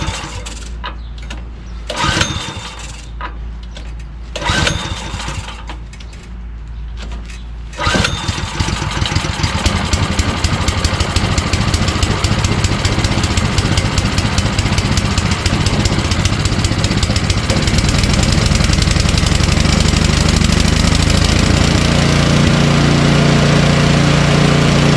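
A Sno Tek by Ariens 24-inch dual-stage snowblower engine, on choke, is pulled over in a few loud cranking attempts, then catches and runs steadily and loudly up close.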